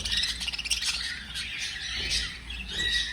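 Cockatiels and budgies in an aviary flight squawk and chirp continuously, a dense chorus of harsh calls and bright tweets from many birds close by, with no talking.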